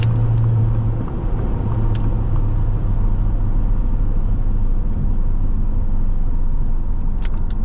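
A 2006 Saab 9-3 Aero SportCombi cruising in sixth gear, a steady low engine and road drone heard from inside the cabin, even and continuous with faint faraway clicks.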